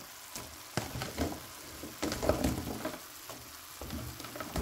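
Carrots stir-fry in a pan for vegetable chopsuey: a quiet, soft sizzle broken by irregular bursts of stirring and tossing, with no talking.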